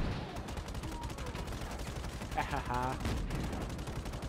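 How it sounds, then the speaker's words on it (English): Rapid bursts of automatic gunfire crackle in the open-world shooter Just Cause 3, a dense, continuous rattle of shots with a brief laugh from a player partway through. "Someone's shooting me."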